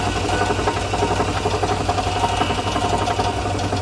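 A valve spins in a valve grinding machine while small-block Chevy 350 cylinder heads are rebuilt, a loud continuous motor drone with a steady mechanical whir and vibration, close and unbroken.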